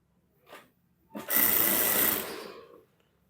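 A sewing machine stitches a salwar, one short burst followed by a longer steady run of rapid stitching lasting about a second and a half, close and clear with no talk.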